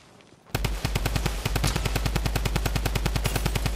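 Rapid automatic gunfire in the video game Fortnite, Chapter 2 Remix Zero Builds, starts abruptly and continues as a loud, steady burst of evenly spaced close shots for about three seconds.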